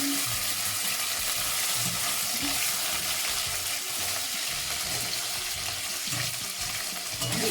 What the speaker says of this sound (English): We're gonna fry it for about 2 minutes.